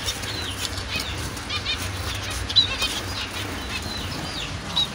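A small bird in an aviary flaps its wings and flies off: a close burst of quick wingbeats over a busy background of soft chirps and bird activity.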